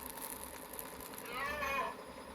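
A faint, drawn-out bleating call like a ram's cry inside the video game 99 Nights, rising briefly about halfway through over a low, quiet game ambience.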